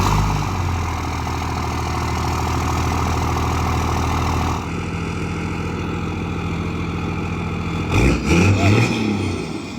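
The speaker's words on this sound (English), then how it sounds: "I've got a few clips of it starting, revving it a little bit." A 2002 Dodge 3500 diesel truck with aftermarket exhaust idles with a steady low rumble, then briefly revs up near the end, loud and close with no talking.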